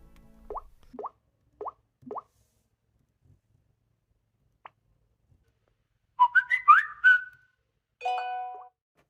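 A series of short electronic plops and blips, then quick bright chiming tones and a rising whistled jingle from a Samsung Galaxy Note 4 interface, crisp and isolated against silence.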